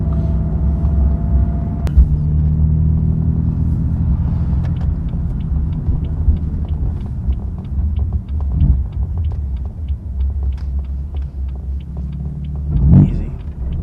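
Manual BMW F82 M4 engine rumbling steadily from inside the cabin, a deep low drone that swells slightly as the car pulls away and accelerates, with a brief louder surge near the end.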